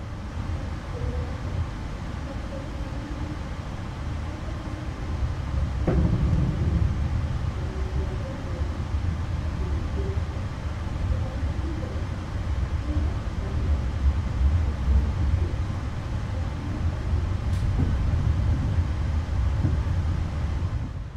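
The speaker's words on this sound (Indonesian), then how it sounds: "kereta api Argo Muria yang saya naiki sudah diberangkatkan dari stasiun Gambir" Argo Muria executive train pulling out of Jakarta Gambir station, a steady low rumble of rolling wheels and carriage noise that swells slightly after a soft thump, with a brief faint high squeal near the end.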